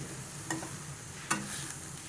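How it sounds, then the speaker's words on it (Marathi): Dill greens steam-cooked with salt in a pan give off a quiet, steady sizzle, with two brief spatula scrapes as they are stirred. "मीठ टाकून पुन्हा एकदा व्यवस्थित परतून घेऊ."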